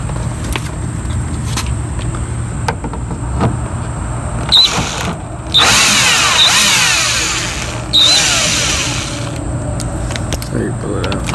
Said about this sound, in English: So let's go ahead and unscrew the screw right here.